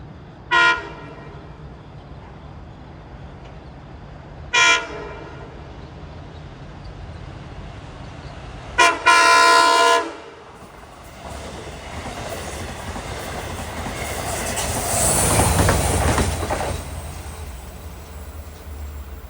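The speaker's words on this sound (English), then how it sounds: "here he comes at 7:37. Train number 7, Montauk to Long Island City" A Long Island Rail Road commuter train horn sounds three times on the Montauk Branch, the last blast longer, then the rumble of the passing train builds and swells.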